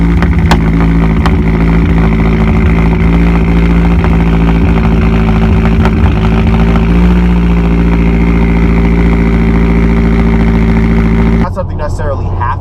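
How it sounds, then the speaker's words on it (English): A car engine fitted with a big turbo and a ported exhaust manifold, its internal flappers removed, idles loud and close on a cold start. It holds a steady, heavy droning rumble for about eleven seconds before cutting off. "once you port your manifold, you shave it down and you take off the flappers and things like that that are on the inside, your cold start's going to sound pretty ridiculous"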